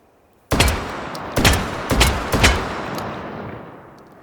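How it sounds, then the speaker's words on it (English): Four loud, close blasts from a semi-automatic shotgun with a four-round capacity, fired in a VR game, spaced roughly half a second apart, each ringing out into a long decaying tail with no talking. "This is the first semi-automatic shotgun."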